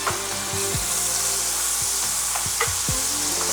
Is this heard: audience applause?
no